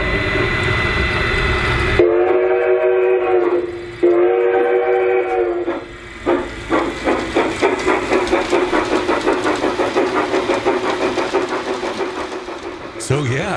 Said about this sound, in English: We're off and running with the White Pass Steam Train, pulling freight cars